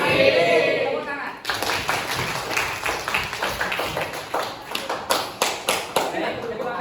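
Students at a vocational high school event in Panggungrejo clap together in a rhythmic group pattern after a brief stretch of voices, the sharp hand claps near and fairly loud, turning into a steady patterned beat.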